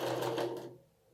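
A domestic sewing machine runs a short burst of stitching on a strappy dress, a rapid close whirring buzz that stops abruptly and leaves quiet.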